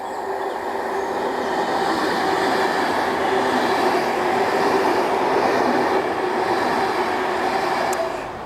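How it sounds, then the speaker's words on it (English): A train rumbles through Bingley station on the Airedale line in Yorkshire with a steady, loud roar that holds throughout, with no voices. "And now there's a train passing through."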